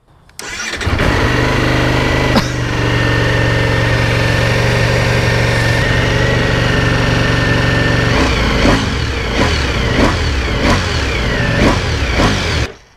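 A 2025 Ducati Panigale V4S motorcycle starts with a sharp crank and catch, settles into a loud, steady idle, then gives several quick throttle blips near the end, close up with no talking.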